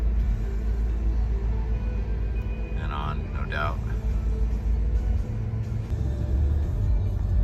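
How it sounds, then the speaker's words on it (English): Backed-up traffic comes off a bridge as a distant, steady low rumble of vehicles, with a brief voice speaking over it. "And the backup traffic still coming off the bridge."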